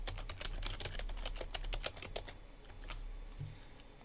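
A password typed on a computer keyboard during Raspberry Pi OctoPrint setup, heard as a rapid, close burst of key clicks that thins out toward the end over a low steady hum, with no talking.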